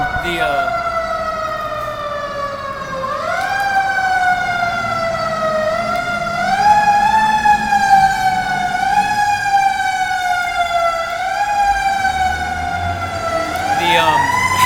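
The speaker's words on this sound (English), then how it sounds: "There's a fire truck coming right there." A fire truck siren wails loud and close as the truck passes, its tone rising and falling in repeated sweeps over about fifteen seconds, with a low vehicle rumble underneath.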